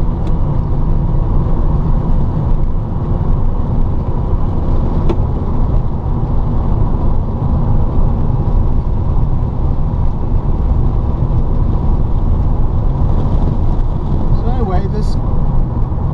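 Electric VW Beetle conversion taking a corner at about 45, heard from inside as a loud, steady rumble of road and wind noise with no engine note and a faint whine near the end.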